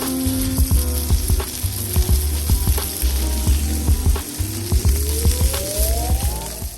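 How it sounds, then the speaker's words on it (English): Ground chuck burger balls sizzle on top of bacon on a Blackstone griddle. Loud, close frying sits under a rhythmic mechanical clicking and clattering that repeats through the whole stretch. "right here I'm putting the burger balls right on top of the bacon"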